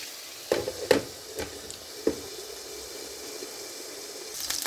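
Chicken tikka cooks in a covered pan with a soft, steady sizzle, broken early by a few light clinks and taps of the lid and utensils.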